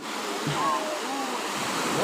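Sea waves wash onto Cha-am beach in a steady, broad roar of surf with some wind, unbroken and fairly loud, while faint voices are heard in the background.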